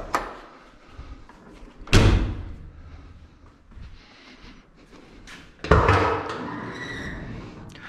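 Front trunk lid of a Subaru-converted VW Super Beetle thuds open with sharp metallic clunks and rattles, two loud knocks several seconds apart amid quieter handling noises.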